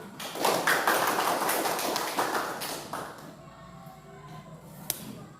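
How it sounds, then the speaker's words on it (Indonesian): A school class claps hands together in a lively burst, with the clapping tapering off after a few seconds and a couple of sharp taps near the end. "semangat ya, tepuk tangan"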